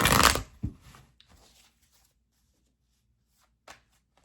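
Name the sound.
shuffling tarot cards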